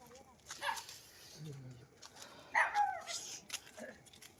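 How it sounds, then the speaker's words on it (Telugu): A found dog makes a few short yips and whimpers close by, mixed in with people talking loudly outdoors. "చలో కుక్క వచ్చింది"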